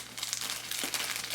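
A crinkly plastic fabric mailer bag being opened, giving a short, soft crumpling and rustling at close range with no talking.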